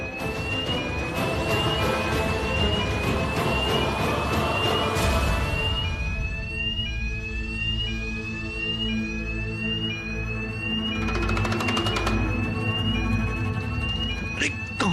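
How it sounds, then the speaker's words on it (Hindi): A hotel fire alarm rings loudly in repeated rising electronic sweeps, pausing briefly midway before resuming, with other sound beneath it. "ये तो फायर अलार्म है।"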